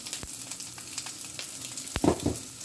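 Shrimp fried rice fries on a home stovetop hibachi-style, with a low background sizzle broken by sharp spatula clicks and a brief scrape of stirring toward the end.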